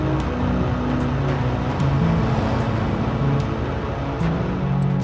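Large motor coaches rumble through a narrow back alley, their engines producing a loud, steady, continuous drone with a constant roar of traffic and no voices.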